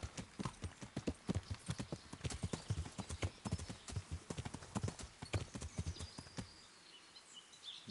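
Horse hooves clip-clop in a steady, quick rhythm in Kingdom Come: Deliverance, loud and close, with a brief whinny-like tone, then the gait stops and the last second goes quiet.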